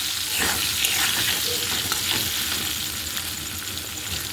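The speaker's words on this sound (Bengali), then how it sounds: "এবার আলুগুলো দু তিন মিনিট মতন ভেজে নেব" Potatoes fry in a pan while being stirred, making a loud, continuous sizzle broken by repeated spatula scrapes close by, with no speech.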